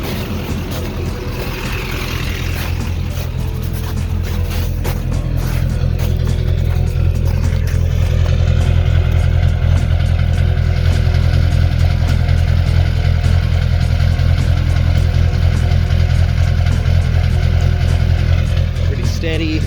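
An LB7 Duramax diesel truck engine runs steadily at idle with a deep, continuous exhaust drone throughout, loud and close, with faint clatter.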